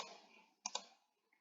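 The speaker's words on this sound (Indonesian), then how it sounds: "Lalu setelah selesai kita klik OK." Two quick computer mouse clicks, close and faint, sounding while a user clicks OK in statistics software during data entry, set against a soft steady background hum with no talk.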